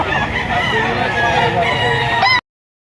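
Rooster crowing at a chicken market in Lipa, Batangas, a loud, close, sustained crow with other fowl clucking and market noise behind it, ending abruptly.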